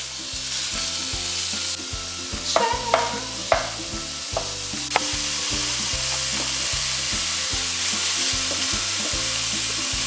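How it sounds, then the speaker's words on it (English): Mapo tofu browns in a pan with a continuous loud sizzle, broken by a few sharp clicks and scrapes of a utensil stirring the food around the pan. "You're gonna wanna stir it occasionally, just so that it doesn't stick to the pan and that it cooks evenly on all sides."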